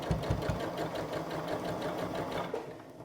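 Sewing machine stitching a zip seam with long stitches, a steady close mechanical whir with a few heavier knocks at the start, running unbroken and alone.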